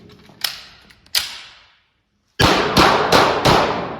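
Pistol shots from a Canik TP9 handgun at a range: two sharp reports a moment apart, a brief pause, then four quick loud shots in steady rhythm, with no talking.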